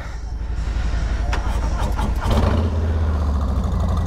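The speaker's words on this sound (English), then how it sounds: "Let's start the engines up here." A 2020 Harley-Davidson Low Rider S motorcycle engine cranks and fires about halfway through, then settles into a deep, close rumble. Voices and outdoor noise are mixed in.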